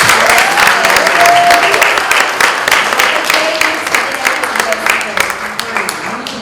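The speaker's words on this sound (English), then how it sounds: "All right, guys, another round of applause for our" Crowd applause at a 2019 entrepreneur launch party, loud and close, a dense wash of many hands clapping that sustains throughout, with voices and cheers mixed in and gradually thinning toward the end.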